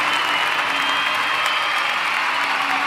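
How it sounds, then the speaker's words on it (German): A crowd cheers and applauds in a steady, dense roar that holds at the same loudness throughout, with no distinct voices standing out. "Can't you hear the cheers?"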